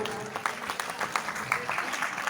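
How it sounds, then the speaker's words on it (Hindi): A seminar audience claps together, a steady wash of many hands at moderate distance with no cheering, lasting a couple of seconds. "सर के लिए एक बार जोरदार तालियां हो जाए।"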